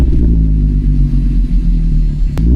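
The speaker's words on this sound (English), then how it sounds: "this engine has a very typical noise" A VW Golf 5 R32 engine runs at a steady, loud low drone with a throbbing idle-like rumble and a brief sharp click near the end, no speech.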